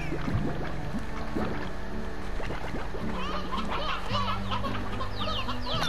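A chicken clucking in the Slime Rancher video game, several short clucks scattered over a steady hum and splashy game ambience.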